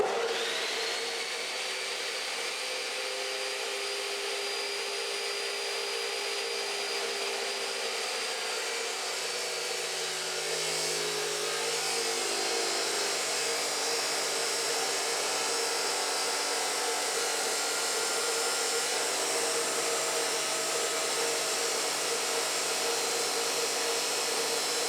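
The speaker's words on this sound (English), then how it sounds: "I'm now going to start the machine and slowly pull it through the metal bar." A steady, loud machine whine and grinding noise continues without a break while a powered cutter is pulled slowly through a steel bar.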